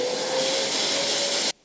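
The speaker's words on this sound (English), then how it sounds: "Hoover." A Hoover vacuum cleaner sucks up drilling debris from a mortise hole in a workbench leg vice, a loud steady whooshing roar with a faint whine that cuts off abruptly at the end.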